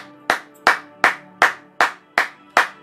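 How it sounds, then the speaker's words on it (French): A church congregation claps together in a slow, even rhythm: seven sharp, loud claps spaced evenly, each ringing briefly in the hall, with no speech over them. "Est-ce qu'on peut acclamer pour la gloire de Jésus-Christ?"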